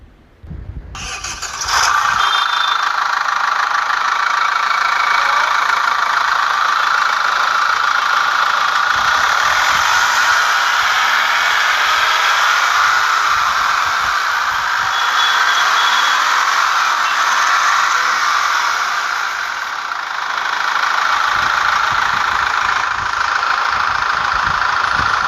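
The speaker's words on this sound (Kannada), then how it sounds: "ನಿಮಗೆ ಇಂಜಿನ್ನು ಸ್ಟಾರ್ಟ್ ಮಾಡಿ ತೋರಿಸಿದ್ದೀನಿ. ತುಂಬ ಸ್ಮೂತಾಗಿದೆ ಡೀಸೆಲ್ ಇಂಜಿನ್ನು." A 2013 Chevrolet Cruze LT diesel engine cranks and catches, then settles into a steady, even idle with a low knocking diesel rumble, close and loud for the whole stretch.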